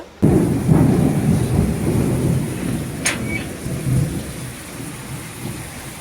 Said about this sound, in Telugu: ఫుల్ వర్షం అనమాట ఇంకొంచెం లేటుగా వస్తే ఫుల్గా తడిసిపోదాము